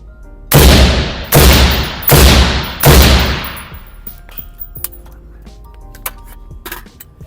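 Four loud, close AR rifle shots fired at a target, evenly spaced under a second apart, each with a ringing decay, followed by faint clicks and handling noises.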